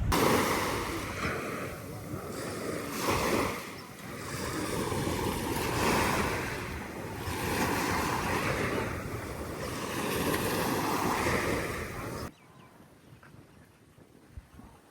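Waves washing onto a beach in Singapore, a broad, steady surging roar with gentle swells, mixed with wind buffeting the microphone, before cutting abruptly to a quiet background near the end.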